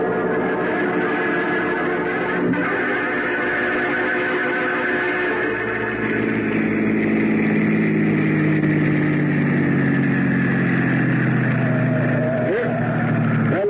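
A car engine runs steadily in an old-time radio detective drama, a continuous low motor rumble that shifts partway through as if the car pulls away, with no talk over it.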